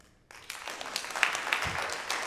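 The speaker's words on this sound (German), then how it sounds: "Mal klatschen oder schreien oder irgendwas?" A concert audience breaks into clapping and scattered cheers after a brief quiet start, a dense, lively burst of many hands with a few shouted whoops rising above it.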